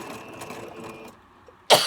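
A single sharp cough bursts out near the end, close and loud, after a stretch of faint mechanical hum from a sewing machine fading away.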